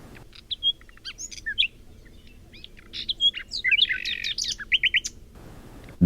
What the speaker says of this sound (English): When morning came, the nightingale was still singing.